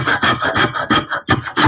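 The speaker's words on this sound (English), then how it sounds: "I've taken the table of my bandsaw and tipped it to 45 degrees." A bandsaw with its table tilted to 45 degrees rasps through the corners of a wooden post in a series of rapid, even rhythmic strokes, loud and close with no talking.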